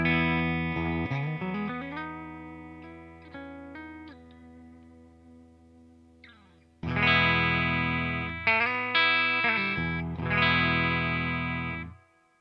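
Clean electric guitar notes and chords through a Fender Deluxe Reverb tube amp ring out with sustain and a touch of reverb, a few sparse notes first, then fuller strummed chords.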